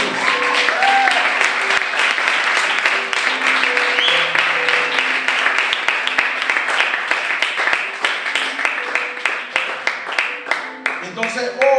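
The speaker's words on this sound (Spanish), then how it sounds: "Denle un fuerte aplauso a Jesús." Loud, sustained applause from a church congregation, dense clapping filling the whole stretch, with a few voices and faint music tones mixed beneath before the clapping thins toward the end.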